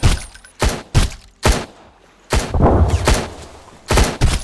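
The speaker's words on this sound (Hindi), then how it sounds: "हाँ लगा शॉटगन वहीं से" Loud, booming shotgun blasts in a video game, about six heavy shots in uneven succession with brief gaps between some, close and forceful. No one speaks.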